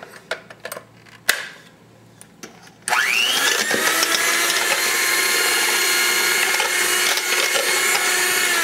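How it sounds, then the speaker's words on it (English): An electric mixer whirs to life in Belgian waffle batter after a few clicks and knocks, then holds a loud, steady, high motor drone close by. "I'm going to use my mixer here"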